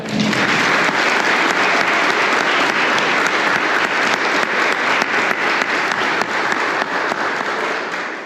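Sustained, steady applause from a church congregation at an Easter vigil, dense clapping that holds at full loudness for the whole stretch with no talk over it.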